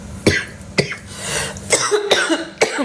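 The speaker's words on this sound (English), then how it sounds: "I keep coughing today" Several sharp, fairly loud coughs from one person spaced across a few seconds, with a brief throat-clearing sound between them and no speech.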